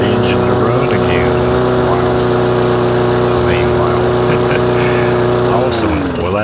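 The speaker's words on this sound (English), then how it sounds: "Wow, I really didn't expect that engine to run again." A small scrapped engine from an Ariens or Yard Machines 11A-02BT729 yard machine runs steadily at a constant loud drone, close by, with a slight pitch dip near the end.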